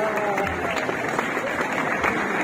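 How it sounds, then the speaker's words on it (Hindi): An audience applauds in Alhamra Hall on Mall Road, Lahore, during a classical music festival, a dense patter of clapping heard up close throughout the short stretch. "भरपूर तालियां होनी चाहिए।"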